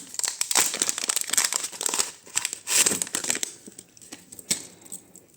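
A small plastic bag of vintage jewelry crinkles and rustles in irregular bursts close to the mic, loud crackling handling sounds with brief pauses and no talking.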